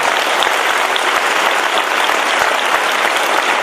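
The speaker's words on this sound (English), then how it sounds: "Give a big clap for all of them." An audience at a spiritual talk breaks into sustained applause, dense and loud, with many hands clapping steadily throughout without any speech on top.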